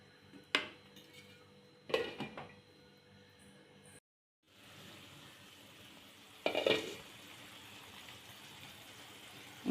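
Metal utensil scraping and clanking in a pot of spicy pirandai (adamant creeper) curry in a few short bursts, a brief silence, then a lid knocked into place, with a low simmering hiss between.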